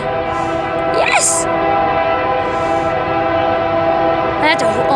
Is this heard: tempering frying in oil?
no